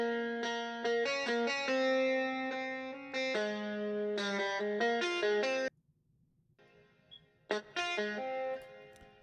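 Clean electric guitar with a touch of added top-end EQ plays sustained chords and melodic lines in a mix, stopping briefly for about a second before returning with a few more notes.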